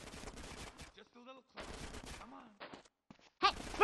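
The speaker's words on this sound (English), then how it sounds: "Get some suppressing fire in there!" Rapid gunfire bursts and loud shots from GTA San Andreas Definitive Edition, mixed with voices shouting in the game, with a heavier volley at the end.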